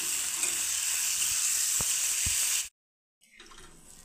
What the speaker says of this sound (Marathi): पाणी घालून घेऊ लगेच